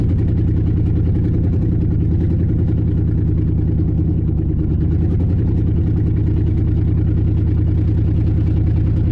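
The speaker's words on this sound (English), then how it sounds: "It's definitely the engine doing it." A car engine running rough drones loud and close with a steady low pulsing rumble, no clear revs, sustained throughout.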